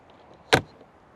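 A large pass-through storage door on a 2025 Keystone Bullet Classic 1900RD travel trailer, a single short close latch clack popping up against quiet surroundings.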